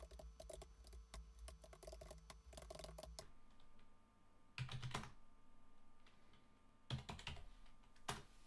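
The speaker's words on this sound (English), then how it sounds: "now I'm going to type in a quick basic program, and I'll speed up the typing in post" Fast, sped-up typing of a BASIC program on the keyboard of a Gigatron TTL computer, dense clattering bursts of keystrokes followed by a quieter pause and a few scattered louder clicks, close and with no talk.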